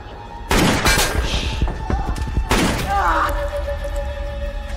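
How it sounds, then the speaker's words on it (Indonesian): Two bursts of rapid gunfire in a film scene, loud and sharp, each followed by ringing, dramatic tones. "tiba-tiba muncul tembakan dari seseorang misterius"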